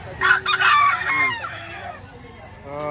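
A rooster at a market in Lipa, Batangas crows once, loud and near, and its call trails off while people talk softly around it.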